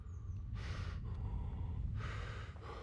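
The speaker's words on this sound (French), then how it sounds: "Ah ouais, mec, il a un essoufflement" A character in the medieval video game Kingdom Come: Deliverance pants heavily out of breath in a forest, with two loud, breathy gasps over a low background rumble.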